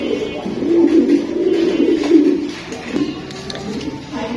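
Pigeons coo repeatedly at a Bangladeshi pigeon farm where birds are sold, a low throaty rolling coo sustained close by in overlapping bursts with faint higher chirps and background noise.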